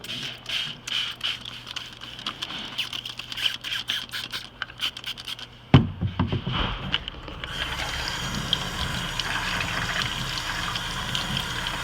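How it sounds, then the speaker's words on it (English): Water runs from a tap over a metal etching stencil, starting with scattered scraping and splashes, then settling into a steady, loud gushing stream. "Just gonna run it under water,"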